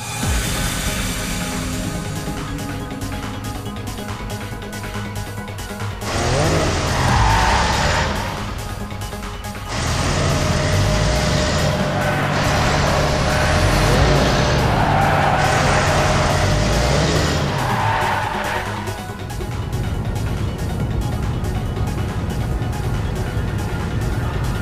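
A vehicle launching in Tokyo Xanadu eX+, a loud engine surge that swells and holds in long, roaring stretches over a continuous low rumble.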